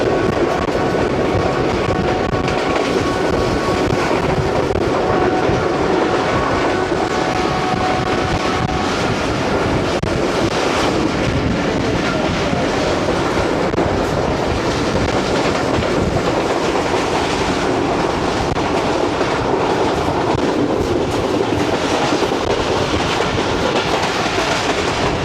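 Passenger railcar running on rails between Lahore and Hafizabad, a loud continuous rumble with steady clickety-clack of wheels over joints and some wind buffeting, no talk throughout.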